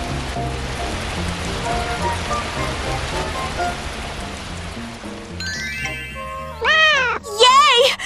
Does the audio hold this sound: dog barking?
no